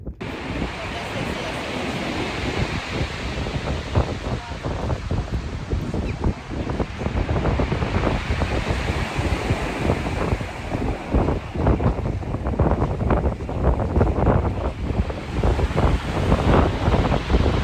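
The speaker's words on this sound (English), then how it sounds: "I'm at Burling Gap right now, and I just love the sound of those waves" Ocean waves wash ashore at Birling Gap while strong wind buffets the microphone. The surf rushes continuously and loudly throughout, with a voice speaking over it at times.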